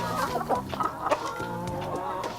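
Chickens on a farm of more than two thousand birds raised on soil, clucking and chattering together in a busy flock, close and continuous with no talk.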